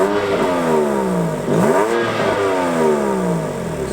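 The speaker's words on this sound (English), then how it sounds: "I'm just going to give you a couple of revs" A BMW M2 engine in Efficient mode revs up and down twice in close succession, rising and falling smoothly, heard up close with no talking.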